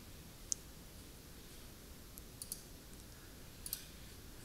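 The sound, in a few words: computer mouse clicks while editing a blog post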